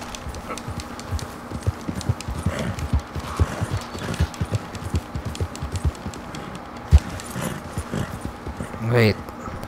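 Horse hooves clip-clopping in Red Dead Redemption 2, irregular soft thuds and footfalls under game ambience, ending with a short whinny-like call near the end; speech is faint or absent.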